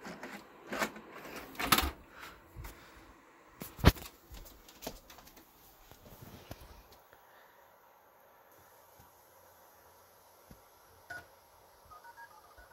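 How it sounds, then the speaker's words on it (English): Dialing tones recorded on an old Wiggles VHS tape sound as a quick run of faint electronic beeps amid tape hiss and clicks, fading to near-silence with a few scattered ticks afterward. "a phone dialing sound at the beginning and end of my Wiggles 2-2 VHS"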